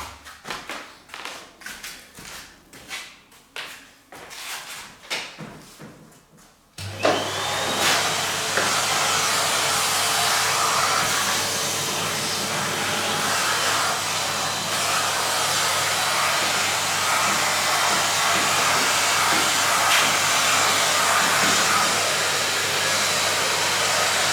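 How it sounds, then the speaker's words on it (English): A vacuum cleaner used while restoring an 1865 Forster & Andrews pipe organ: several seconds of knocking and handling noises, then the machine starts with a loud, steady rushing roar that runs on without pause. "Right, that's where we do want the vacuum."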